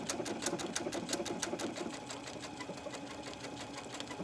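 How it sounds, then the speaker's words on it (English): A sewing machine fitted with a denim needle runs an embroidery stitch on silk noil fabric without help, a fast, even, loud mechanical clatter of needle strikes that slows slightly partway through, with no voices. "you can see this is the machine. Kind of scared me for a second. It just does the whole stitch by itself."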